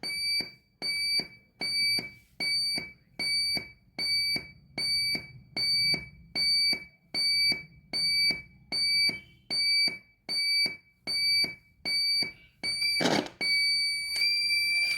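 A high electronic alarm tone from a three-mode tone generator circuit, switched to a different mode, beeps on and off in a fast, regular pattern, then cuts out with a sharp click near the end.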